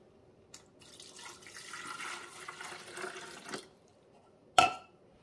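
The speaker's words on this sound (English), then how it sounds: "And then we just pour it right into the water reservoir." Vinegar is poured into the water reservoir of a Cuisinart SS-10 single-serve K-Cup coffee maker, a soft splashing trickle lasting a few seconds, then a brief sharp knock.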